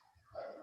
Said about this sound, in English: And sorry for my dog.